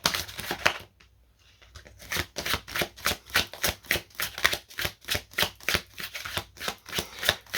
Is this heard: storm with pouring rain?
no